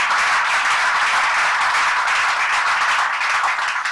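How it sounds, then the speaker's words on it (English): A large audience at a live televised 2022 roundtable on the Ondo Amotekun security corps gives a sustained, dense round of applause for the commander's men, steady and loud throughout with no talking over it. "we want to throw a round of applause to your men."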